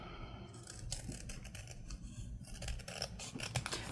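Scissors trimming paper pieces for a paper sack journal, a series of quick crisp snips and rustles close up, bunched at the start and again near the end.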